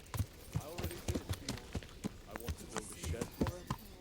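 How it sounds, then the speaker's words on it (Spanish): Horse hooves clip-clop in a steady rhythm as a rider sets off on horseback in a medieval role-playing game, the beats close and evenly spaced. "Y me voy con mi caballo."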